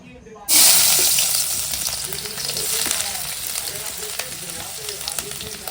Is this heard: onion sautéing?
yes